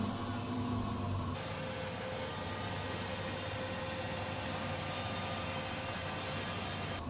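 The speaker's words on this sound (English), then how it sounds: "And now here's a clip of what the car sounds like now." Close recording of a Chrysler 300C Hemi V8 idling after its exhaust was repaired: an even, quieter engine hum under a constant hiss, steady for the whole stretch and with no voices.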